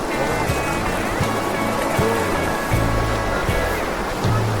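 River water flowing beside a riverside campsite, a loud, constant rushing wash that fills the whole clip, with faint low voices and knocks underneath.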